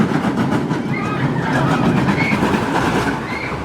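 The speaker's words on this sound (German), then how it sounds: "Allein der Sound vom Zug im Looping ist der Wahnsinn." The Looping Speed Racer, a Schwarzkopf roller coaster with a vertical loop, roars loudly as its train rushes through the loop, a dense rumbling, rattling track noise with faint wheel squeals.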